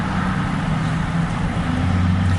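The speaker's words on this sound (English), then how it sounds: "it's very loud with all the traffic and trucks" Road traffic and trucks rumble past an open window, a loud, continuous low roar with broadband wash and no speech over it.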